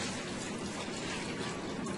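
Water poured from a tap into a cooking pot of raw potatoes, a continuous close rushing splash at fairly low level with no voices.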